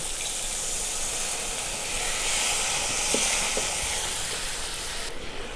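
A little water hits frying eggplant in a hot pan for begun posto and sets off a loud, steady, broadband sizzle. The hiss holds evenly throughout at close range, with no speech.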